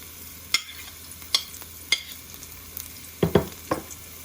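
Finely chopped garlic sizzles in two tablespoons of olive oil in a pot for white sauce pasta, a soft hiss under a few crisp spoon scrapes and taps, ending in a quick cluster of stirs, with no voices.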